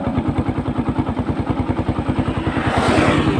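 A motorcycle engine fitted with a new carburetor runs close by with a fast, even pulsing idle, then revs up near the end into a louder, rougher roar.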